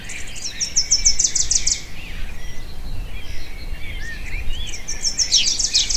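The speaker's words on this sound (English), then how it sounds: "The oriole is a medium-sized bird." An oriole sings in bursts of rapid, high chirping notes. Two bouts come several seconds apart over a steady outdoor background hum.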